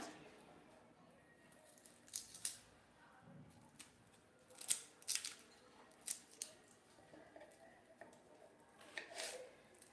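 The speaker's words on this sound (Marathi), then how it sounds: "इथं कांदा पण एकदम बारीक कांदा असा चिरून घ्यायचा" A knife finely chops onion on a board, with faint, close, irregular cutting taps and crunches that come in small clusters.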